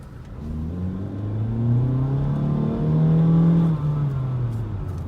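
A 2018 Honda Civic economy car accelerating hard in sport mode, the engine note rising steadily through revs, then dipping at a gear change before climbing again, loud and close from inside the car.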